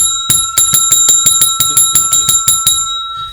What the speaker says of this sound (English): this bell is every time you ring it